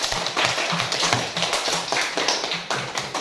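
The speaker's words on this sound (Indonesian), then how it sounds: "Ya, tepuk tangan untuk kita semua anak-anak" Schoolchildren in a classroom clapping in a lively, rhythmic burst of hands, close and fairly loud, with the claps falling into a rough repeated beat.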